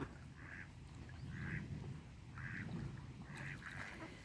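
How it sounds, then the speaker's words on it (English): Ducks on a pond near a footpath quack in a steady rhythm of about four evenly spaced calls, moderately close, over faint outdoor background noise. "A few ducks."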